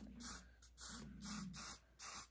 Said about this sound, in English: So I'm using the hairspray and I'm fluffing up the fur all the way around like that.